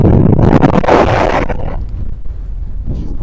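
Strong wind buffeting the microphone while camping on Dartmoor, a loud roaring gust at first that eases into a lower, steadier rumble, with no talking.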